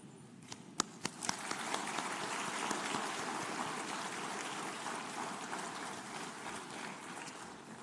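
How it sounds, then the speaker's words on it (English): Graduates at a university convocation ceremony in an auditorium giving a sustained round of applause, starting with a few sharp claps then swelling into dense, even clapping that carries on steadily at moderate distance. "I would like to request all the graduates to stand up and give a good round of applause to your parents"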